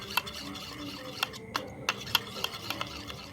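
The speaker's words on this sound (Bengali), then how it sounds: "এবার এটাকেও ভালো করে ফেটিয়ে নেব এর সঙ্গে" Whisk or spoon clinks against a bowl in quick, irregular strikes while a yogurt marinade with Kashmiri chili and oil for tandoori chicken is beaten. The taps sit close and distinct over a soft wet stirring noise, with no talk.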